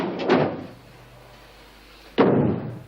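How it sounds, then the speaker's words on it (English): A door is shut in an office, with two solid thumps: a first bump near the start, a quiet pause, then a firm closing slam. "Ah, Karen, shut the door."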